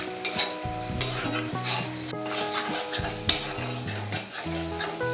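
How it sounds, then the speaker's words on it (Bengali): Onion paste fries and sizzles in a pan while a utensil stirs and scrapes against the metal steadily, with occasional clinks, close and fairly loud, and no talking. "পেঁয়াজ বাটা ব্রাউন করে ভেজে নেব।"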